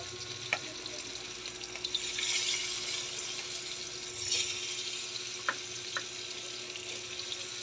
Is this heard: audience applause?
no